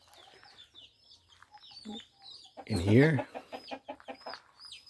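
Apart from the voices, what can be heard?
rooster and chickens clucking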